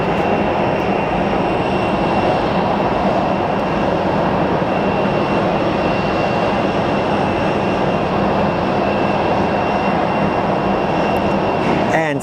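Alaska Airlines airliner arriving from Seattle at Phoenix Sky Harbor International Airport, a steady loud broadband engine roar held throughout, close and continuous with no voices.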